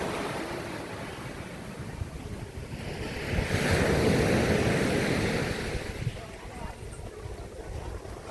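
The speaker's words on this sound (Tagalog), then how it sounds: "Medyo may kalakasan yung alon, pero try natin maligo." Rough surf crashing on White Beach, Puerto Galera, Mindoro, swelling louder in the middle, with heavy wind buffeting the microphone and faint voices underneath.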